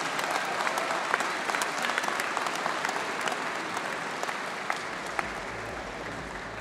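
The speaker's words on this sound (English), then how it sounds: "give these guys a huge round of applause" An audience applauds steadily, a dense wash of many hands clapping at an even, fairly loud level throughout.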